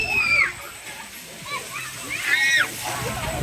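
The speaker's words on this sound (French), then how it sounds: "je suis en train de me faire doucher en même temps. Vous voyez, avec les jeux d'eau maintenant" Water splashes and sprays from play fountains at the Futuroscope theme park, a nearby rushing patter heard under voices and a few high-pitched shrieks.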